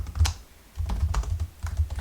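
Keys clatter on a computer keyboard while a book title is entered into a catalogue, a short burst of close, fairly quiet typing with a pause before the clicks resume in a steady rhythm.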